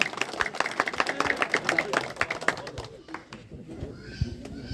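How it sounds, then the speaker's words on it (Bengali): An audience at an E.P.L. prize-giving ceremony claps loudly and rapidly for a few seconds, then the clapping thins out and fades, with a voice speaking over it. "সবাইকে জোরে জোরে করতালি দেওয়ার জন্য অনুরোধ করছি"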